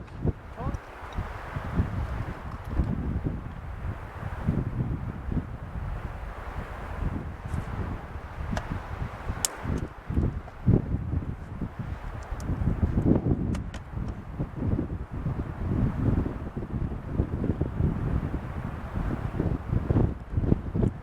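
Gusty outdoor wind at a landscape photography spot buffets the microphone with a continuous low rumble and surges that swell and ease, stronger toward the end, with scattered rustling bursts.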